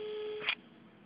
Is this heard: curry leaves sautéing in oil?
no